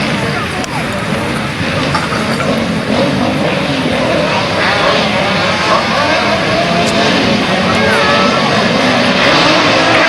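Grasstrack racing motorcycles at a 1990 meeting roar loudly and continuously, engines revving and rising in pitch as the pack passes close by, with a commentator talking underneath.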